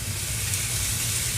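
Food stir-fries at high heat in a wok in a new home kitchen, a dense, steady hiss of sizzling oil with a low hum underneath, close and continuous.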